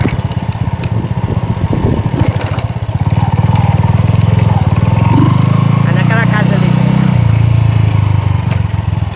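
Small motorcycle engine running close by, a steady mid-pitched idle that swells louder partway through, with people talking over it.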